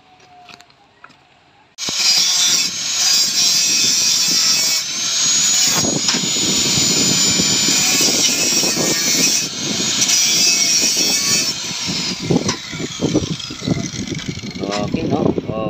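An angle grinder works over thin welds on a steel window grill. After a quiet start it bursts into a loud, continuous, close whining roar that keeps going to the end, with slight changes in pitch and load.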